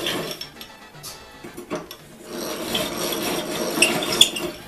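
Hand tap cutting threads into a metal motor mount plate for a South Bend lathe in a workshop, close scraping and ratcheting strokes with small clicks, growing denser and steadier midway.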